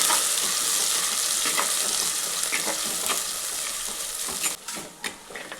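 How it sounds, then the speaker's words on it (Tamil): Onions, green chilli and curry leaves sauté in a pan for a fish kulambu, sizzling loudly and steadily up close, with occasional stirring clinks and scrapes that grow more distinct as the frying eases toward the end. "கருவேப்பிலை சேர்த்துட்டு வெங்காயம் நல்லா பாதி அளவுக்கு வதங்கட்டுங்க"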